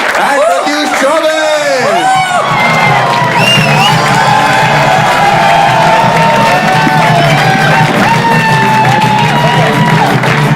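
A studio audience cheers, whoops and applauds loudly as comedians Maheep Singh and Pratyush Chaubey come on stage, with shouts and excited voices rising over sustained clapping throughout.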